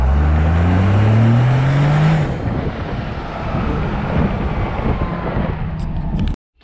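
A 1995 Ford truck's twin-turbo Cummins diesel engine roars up close with rising turbo pitch, accelerating hard into a loud rushing drone that then suddenly cuts off.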